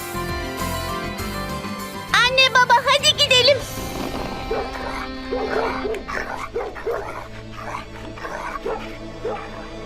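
A quick run of loud, rapid barks rings out from nearby, followed by voices talking over a music-like background.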